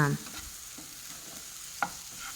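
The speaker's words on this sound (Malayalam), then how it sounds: "ഉപ്പ് ചേർത്ത് കൊടുത്ത് ഈ തക്കാളി വേവുന്നത് വരെ നല്ലോണം ഒന്ന് വഴറ്റിയെടുക്കുക." Tomatoes with salt sauté in a pan as a soft, continuous sizzle, with one brief clink of a utensil partway through.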